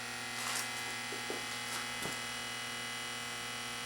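A Rotel RCC 940 CD player powering up with a faulty noise: a steady electrical hum and buzz throughout, with a few brief faint clicks and rattles near the start, fairly quiet and with no voices.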